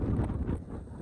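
Strong wind buffets the microphone on a boat crossing Tanguar Haor, a brief, close, rumbling gust of low noise with no speech.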